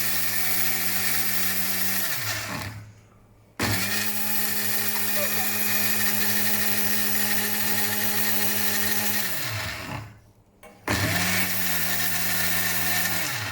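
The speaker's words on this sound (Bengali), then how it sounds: "ফার্স্ট অফ অল ওয়ানে দিলাম লেবু ওয়ান হয়ে গেছে" A Panasonic MX-AE475 blender runs on speed one with lemon, giving a loud, steady motor whine that drops off twice, briefly stopping before restarting, with a person speaking at times.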